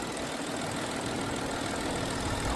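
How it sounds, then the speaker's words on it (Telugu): A Nissan Rogue's 1.5-litre three-cylinder VC variable-compression turbo engine idles under the hood, a steady broadband hum with a faint low rhythmic pulse, close and uninterrupted. "it's 3 cylinder with VC turbo, variable compression turbo"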